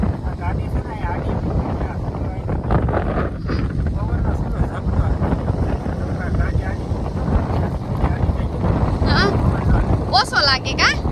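Strong wind blowing at a dam picnic spot, a loud continuous buffeting roar across the microphone throughout, with people talking faintly underneath.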